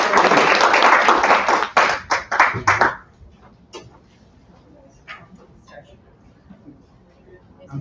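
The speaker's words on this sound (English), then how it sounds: "I would like to give them a warm round of applause and welcome them up here today" A burst of clapping and applause from a group fades after a few seconds, then a quiet room with scattered small noises.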